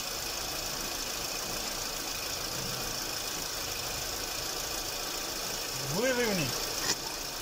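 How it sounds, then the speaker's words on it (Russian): A car engine runs at a steady idle with a broad, even rumble. A brief rising-and-falling whine appears near the end, and a voice speaks a short word over it. "заводи машину"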